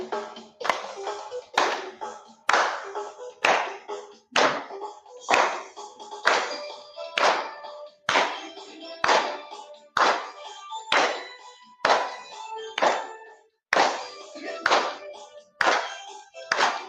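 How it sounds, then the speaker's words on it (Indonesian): Schoolchildren in a classroom clap their hands in a steady, regular rhythm that continues throughout, with singing voices faintly mixed in. "Boleh juga sambil tepuk tangan ya, biar kita lebih semangat untuk belajar hari ini."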